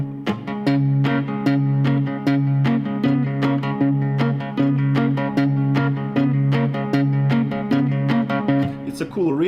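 Electric guitar strums a shuffle rhythm, steady muted chord stabs with a bouncing bass line running close and loud, no voices.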